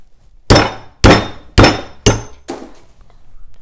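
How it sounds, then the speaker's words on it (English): Five sharp metallic hammer blows at an even pace drive a wheel bearing into a Razor MX650 electric dirt bike wheel, each strike loud and close with a brief ringing decay, the last one softer. "then just take a hammer."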